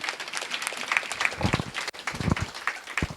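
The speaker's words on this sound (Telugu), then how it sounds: "గట్టిగా చప్పట్లు కొడదాం." Enthusiastic crowd applause at a speech event for PMC, a steady dense patter of clapping hands that swells and fades over a few seconds, with no talk on top.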